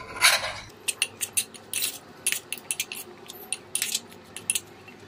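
A metal spoon stirs chicken and mixed vegetable curry with potato and eggplant in a pressure cooker, giving a series of sharp scraping clinks in an irregular rhythm, close and fairly quiet.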